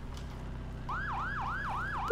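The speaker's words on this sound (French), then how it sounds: "Elle y est pas la sirène?" A police siren in the video game Arma 3 switches on after a short pause and wails in rapid, regular up-and-down sweeps that sound close and loud over a low vehicle engine rumble.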